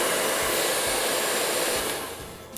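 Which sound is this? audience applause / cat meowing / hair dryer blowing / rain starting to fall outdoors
hair dryer blowing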